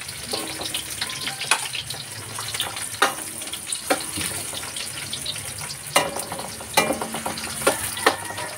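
Garlic and onion sauté in a hot pan with a steady sizzle, broken by sharp scraping and clanking as a utensil stirs every second or so, close and lively with no speech.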